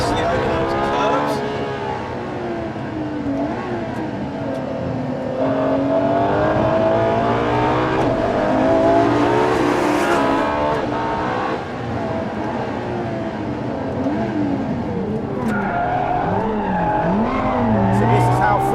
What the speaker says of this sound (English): So this is how friendly the LaFerrari is on the limit.